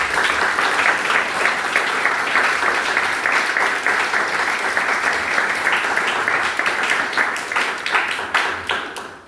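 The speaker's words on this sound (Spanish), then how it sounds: "un gran aplauso a todos los estudiantes" An audience at a concert of Chilean composers applauds the students, a dense, steady burst of clapping that lasts several seconds before tapering off at the end.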